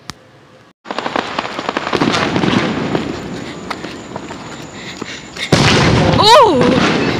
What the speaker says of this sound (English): They're shooting fireworks.